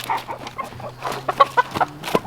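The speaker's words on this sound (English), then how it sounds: "Herding chickens." Several chickens being herded cluck in short, uneven bursts close by, with a faint low hum in the background.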